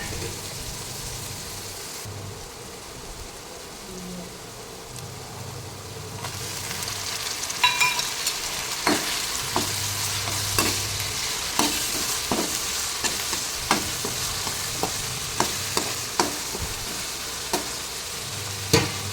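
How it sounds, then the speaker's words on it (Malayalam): Sliced onion frying in a pan, a quiet sizzle that swells louder partway through, then a run of crisp spatula scrapes and taps at irregular intervals, close up, with no talk. "ഇനി സവാള അരിഞ്ഞത് ഇട്ട് കൊടുക്കാം. നന്നായി ഇളക്കി കൊടുക്കാം."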